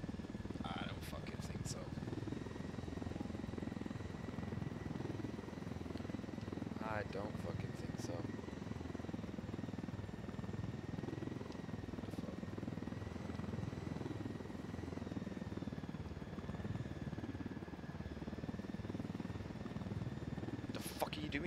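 A helicopter flying in the video game Ghost Recon Wildlands, its steady droning whine and rotor hum running continuously at a fair distance, with people talking over it at times.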